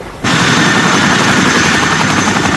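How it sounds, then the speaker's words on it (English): Loud helicopters delivering relief supplies, with a heavy rotor roar that cuts in abruptly after a brief quieter moment and holds steady and close. "These helicopters delivered tents, but there was no equipment to unload them"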